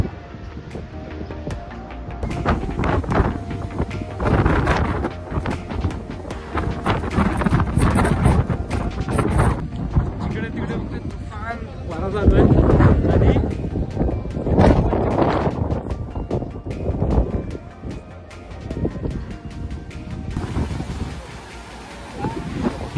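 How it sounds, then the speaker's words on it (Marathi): Strong cold wind gusts roar across an open hillside windmill site near Satara, buffeting the microphone loudly and continuously with surging peaks, while a voice talks at times underneath. "नुसताच वारा नव्हता तर वारा गार होता आणि तो जाणवत होता"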